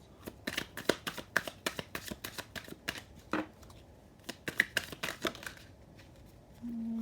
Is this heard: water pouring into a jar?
no